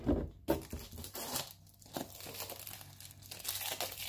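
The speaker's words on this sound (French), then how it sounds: "nous allons ouvrir cette petite boîte sans l'abîmer" A small Bruce Lee 80th anniversary box is opened carefully, with close crinkling and tearing of packaging material in irregular bursts, separated by brief quiet gaps.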